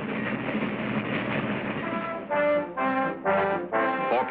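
A diesel passenger train rumbles along steadily, then sounds a series of loud horn blasts in quick succession.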